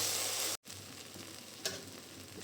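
Ginger and garlic paste frying in a pan makes a soft, even sizzle, broken by a brief silent gap and one light scrape of a spoon against the pan.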